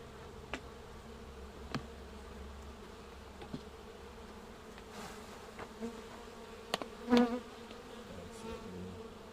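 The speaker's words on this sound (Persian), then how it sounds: "این زنبور 4 طبقه." Bees buzz around a four-storey beehive, a continuous faint droning hum with occasional louder individual insects passing close by.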